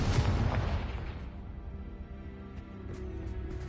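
A Confringo blast spell goes off in Hogwarts Legacy, a loud booming burst at the start that rolls into a long, fading rumble with a few faint crackles near the end.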